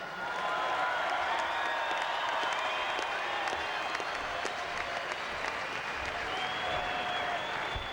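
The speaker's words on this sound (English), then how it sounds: "A big round of applause as they come to the front podium for Jeff Tuvey and the boys from Manly." Steady, loud applause from a large crowd at a rugby sevens final, continuous clapping filling the space throughout with no pauses.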